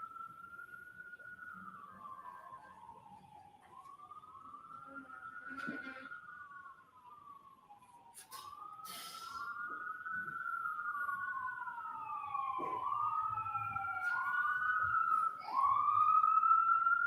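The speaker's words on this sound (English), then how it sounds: "wait until the sirens pass" Emergency vehicle sirens pass outside a courtroom, wailing and rising and falling in overlapping sweeps, heard at a distance, growing louder and more layered toward the end.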